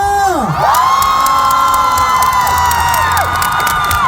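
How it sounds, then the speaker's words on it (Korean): Festival crowd at the Uiryeong Hongui General Festival cheering, whooping and shouting with children's voices mixed in, loud and continuous, with a sustained musical tone and sliding electronic effects running underneath. "박수 함성!"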